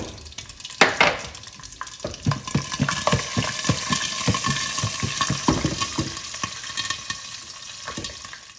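Curry leaves, green and red chilies and chana dal frying in oil for South Indian rice, a continuous crackling sizzle with repeated stirring taps and scrapes throughout, no talk.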